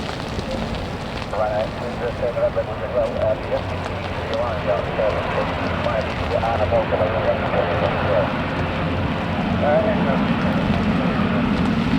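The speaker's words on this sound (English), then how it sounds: "this is the Aer Lingus A320 arriving from Dublin" An Aer Lingus A320 from Dublin arrives at Manchester Airport in stormy rain, its steady broad roar filling the air beneath wind and rain noise while someone talks over it.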